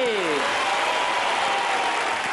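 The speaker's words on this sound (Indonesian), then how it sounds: "Tepuk tangan untuk Mbak Lili" Studio audience applause on a family game show, a dense burst of clapping lasting a couple of seconds, with a brief falling musical sting fading at the start.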